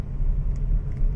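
A car's engine rumbles as the car pulls away in first gear, a steady low drone heard up close. It lasts only a moment and is joined by faint mechanical noises, with no voices.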